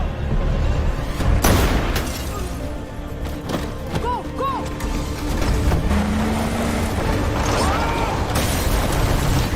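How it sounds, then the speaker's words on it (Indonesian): RPG fire and explosions in an action film make a dense, loud rumbling mix of heavy booms, sharp bursts and mechanical clatter that continues without pause, with no clear speech. "Mereka terus diberondong menggunakan RPG"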